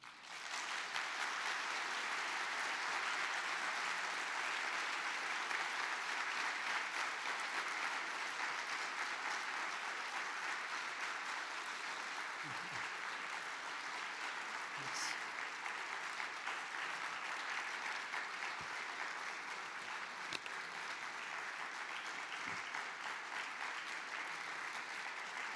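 Audience applause after a lecture on Alexander I of Russia and Napoleon, a dense and even wash of many hands clapping that holds steady throughout at moderate distance, with no voices rising above it.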